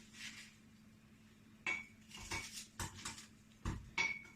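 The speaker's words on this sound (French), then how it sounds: "Voilà, je coupe juste en morceaux" Red onions being cut into pieces with a knife on a board, giving a few scattered knocks and light clinks, fairly quiet with pauses between cuts.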